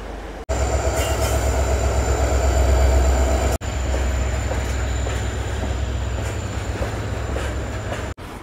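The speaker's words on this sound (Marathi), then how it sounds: "हीच ती डेमो ट्रेन आहे मित्रांनो अंमळनेरला चाललेली। आता ती प्लॅटफॉर्म नंबर 2 कडे जात आहे।" A DEMU passenger train bound for Amalner rolls toward platform 2 at a station on the Ahmednagar–Beed line, a loud, steady rumble of wheels and carriages with rhythmic clatter and faint squeal, no talking.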